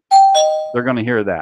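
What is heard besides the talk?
doorbell sound effect played on a show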